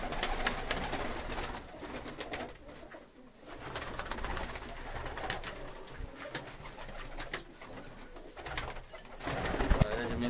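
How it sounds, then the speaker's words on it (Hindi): Teddy breed pigeons coo steadily in a dense, continuous chorus, with many birds overlapping at close range and no pause across the stretch. "टैडी ब्रीड है जी सारे कबूतर ने जी"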